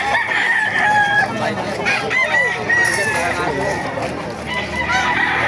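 Chickens clucking busily with a rooster crowing amid the flock at a chicken market in Baliuag, Bulacan, a dense, continuous barnyard din, fairly loud and close.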